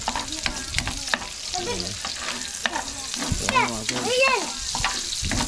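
Onion and garlic sautéing in a pan for kare-kare, with a close sizzle and scraping stirs while voices chatter over it.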